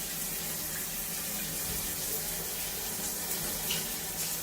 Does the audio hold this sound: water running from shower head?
yes